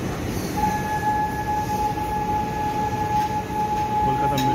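Steady low rumble of the Sairang Express rolling along the rails, with a long, level tonal whine held through most of the few seconds, heard from close by with the noise constant throughout.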